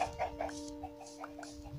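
Minecraft chickens in a coop give several short, scattered clucks, faint and fairly close, over a quiet background with a steady low hum.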